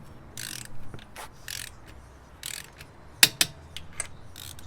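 A ratchet wrench tightens the wheel lug nuts on a Hyundai Veloster N in a series of short, separated clicking bursts, close and fairly loud, with a couple of sharper snaps near the end.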